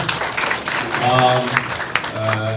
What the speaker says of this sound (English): Let's give her a round of applause there.